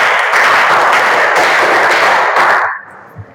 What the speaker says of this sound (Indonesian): kita beri tepuk tangan untuk kelompoknya Farel